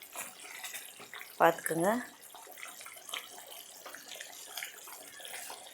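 Brinjal gravy, ennai kathirikai kulambu with oil separating, bubbles in a pot on the stove as a soft, steady simmering wash runs throughout, with a voice speaking briefly near the middle.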